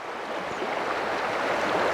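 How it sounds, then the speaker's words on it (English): Shallow stream water rushing over cobbles and rocks along the shore in a turbulent riffle gives a steady, close, broadband wash with no voices. "As that water flows over these rocks, it creates turbulence as that water moves over the rocks."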